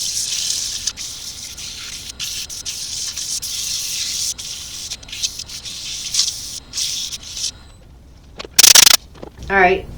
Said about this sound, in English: I'm going to do a quick sand with some 120 grit